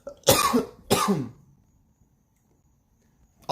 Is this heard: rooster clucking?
no